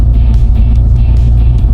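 A 1988 Ford Mustang 5.0 Notchback V8 idling up close, a loud, steady low rumble with a slightly uneven throb and no voices.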